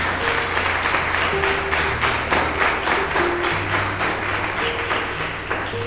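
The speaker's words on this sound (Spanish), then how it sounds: "Dale un aplauso al Señor." A church congregation applauds together in a continuous, dense wash of clapping that stays loud and steady throughout, with no talking.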